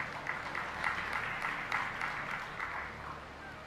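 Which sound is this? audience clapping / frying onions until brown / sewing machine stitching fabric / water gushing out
audience clapping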